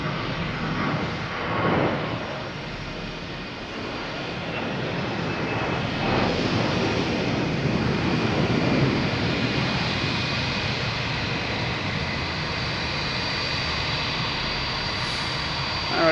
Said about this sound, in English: Spirit Airlines making the racket down here